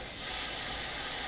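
Butter and minced garlic sizzle in a hot pan while porgy is being cooked, giving a steady, close, broadband hiss that holds evenly with no speech over it.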